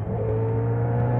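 A Yamaha XJ6 motorcycle with its stock exhaust idling close by with a steady, even hum, continuous and moderately loud, no voices.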